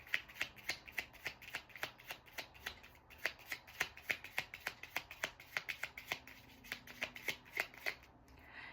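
Tarot cards being shuffled by hand, a close, quiet run of crisp riffling snaps in a quick, fairly even rhythm throughout.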